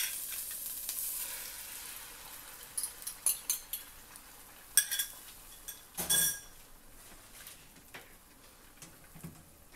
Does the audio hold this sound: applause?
no